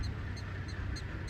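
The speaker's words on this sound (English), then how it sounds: "Prairie dogs are chirping everywhere." Prairie dogs chirping in a South Dakota national park, a series of short, high, regularly spaced chirps repeating over a steady low rumble of wind or engine noise.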